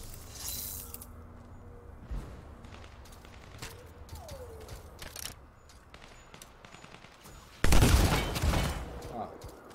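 Gunfire in Anthem, scattered rattling bursts and mechanical clatter building to a loud, dense volley near the end, set against a low game rumble.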